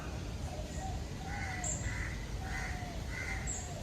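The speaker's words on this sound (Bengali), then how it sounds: "পাখির ডাকগুলো শুনতে পাবেন।" Crows caw and other birds call in a forest in the morning, a few faint, distant calls spaced through the clip over a steady background rumble.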